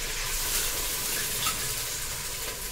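Ginger garlic paste frying in a pan, a continuous dense hiss of sizzling oil at even loudness throughout, heard alone.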